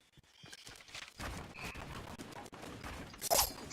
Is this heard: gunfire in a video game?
yes